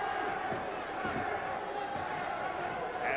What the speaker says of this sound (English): The chant of the truth from the crowd.